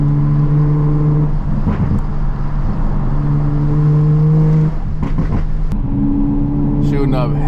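A 500hp MK5 Supra with a loud exhaust drives a canyon road, its engine droning loud and close with shifting pitch, brief revs and crackles over the run.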